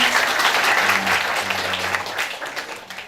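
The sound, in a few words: audience applause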